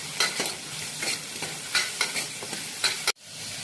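Chopped onions frying and being stirred in a pan for tomato bajji, a run of close scraping stir strokes over a steady sizzle, with no one speaking and a sudden cutoff near the end.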